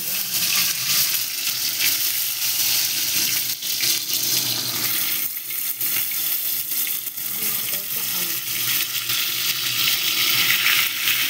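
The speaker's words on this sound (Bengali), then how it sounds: "এই ডিমগুলো একটু হালকা ভেজে নেবো" Eggs lightly frying in oil in a kadai for chicken biryani, a continuous, fairly loud bubbling sizzle with occasional clicks of stirring.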